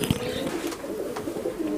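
Nildumma pigeons coo in low, steady murmurs while being held in the hand, a close rolling burble running throughout with a brief soft thump near the start.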